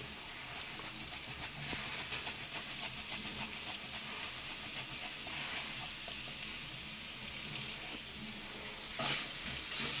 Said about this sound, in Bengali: একটু নাড়াচাড়া করে নেব সব কিছু দিয়ে